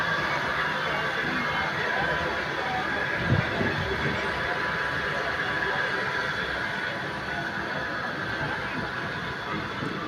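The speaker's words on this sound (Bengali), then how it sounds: "ট্রেনটি এখানে দাঁড়িয়ে আছে। এই যে ট্রেন, আমরা এই বগিতে অবস্থান করছি।" Steady rumble and hiss inside the compartment of a stationary passenger train, with a dense, unbroken background of carriage noise and distant crowd murmur, plus a brief low thump near the middle.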